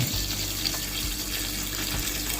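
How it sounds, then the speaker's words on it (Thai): Tap water runs steadily into a basin holding plums for soaking, a continuous close rushing and splashing pour with no voices over it. "ใส่น้ำไปเลยท่วมๆครับผม"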